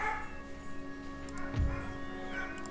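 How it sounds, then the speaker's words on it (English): A dog barks in the background of a house while Empire: Total War plays, a brief muffled yip near the middle set against steady game music and tones, fairly faint and distant. "This dog's bark in the background"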